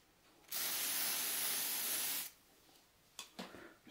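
An aerosol can refilled with brake fluid sprays one steady hissing burst for nearly two seconds, followed by a few faint clicks and handling sounds nearby.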